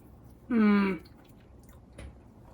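Someone takes a bite of a homemade no-bake fudgy cookie, a single close, loud crunchy-squishy chewing burst about half a second long, followed by quiet and a faint soft thump.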